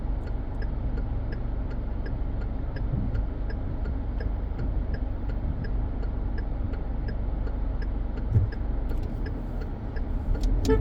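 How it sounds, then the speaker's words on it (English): A car drives along Highway 7 through traffic in Christ Church, Barbados, with a steady low road and engine rumble and a regular ticking, like a turn signal, running throughout; no one speaks. "We have to find a way to get through this traffic"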